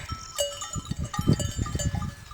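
Sheep on a small flock farm bleat in short overlapping calls close by, with rustling and shuffling of the animals between cries and no talking.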